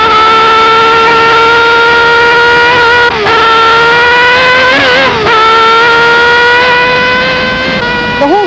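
A racing car accelerates out of a corner on the Nürburgring Nordschleife in 1973, its loud high-revving engine whining continuously, pitch rising and dipping through gear changes as it pulls away, with no voices.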